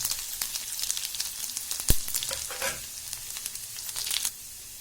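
Cumin seeds dropped into hot oil, a bright crackling sizzle with popping bursts and one sharp clink midway, fading at the end.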